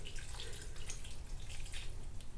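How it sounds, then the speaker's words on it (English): Warm water poured into a bowl of keto meatloaf mixture, a steady splashing trickle that runs unbroken and close by, with no talk over it. "My second ingredient is 1/2 cup of warm water."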